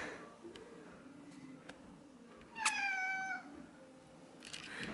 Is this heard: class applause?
no